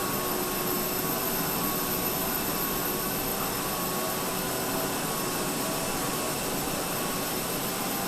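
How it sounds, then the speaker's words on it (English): A vacuum cleaner runs steadily throughout, a loud, continuous broadband roar with a constant high whine and no pauses or talking. "They're annoying with that vacuum cleaner, aren't they?"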